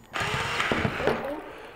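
A cheap Ryobi cordless drill spins a homemade spray paint can mixer built from Walmart parts, giving a steady close-up whir with rattling mechanical clatter for under two seconds.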